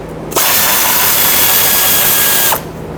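A power tool loosens a 13mm nut and bolt on a 2007-2014 Chevrolet Silverado 2500 HD during a fuel pump job, a loud, close high-pitched whirring burst lasting about two seconds that starts and stops abruptly.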